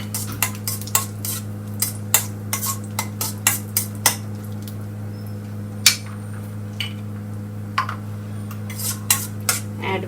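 Cashew nuts fry in two tablespoons of ghee in a pan on a stove, with a soft steady sizzle and drone under sharp clinks of a spoon stirring against the metal pan at an irregular pace, and no voice.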